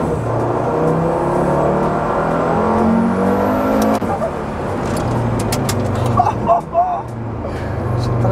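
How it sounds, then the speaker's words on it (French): A KTM X-Bow GT-XR engine droning and revving steadily on track, heard from inside the car as a loud continuous rumble with shifts in pitch, while people talk over it. "tu entends tout de suite un bon moteur"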